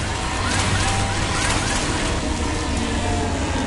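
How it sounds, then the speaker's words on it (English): A roaring storm batters a ship in Mass Effect 2, a constant, loud wash of wind and crashing waves with low engine rumble, steady and dense throughout. "Navigating this storm is brutal"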